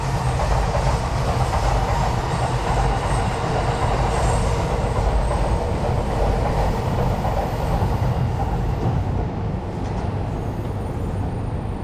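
A train rolls past on one of Tokyo's many rail lines, a loud, close, continuous rumble with clickety-clack wheel rhythm and faint squealing, with no talk over it.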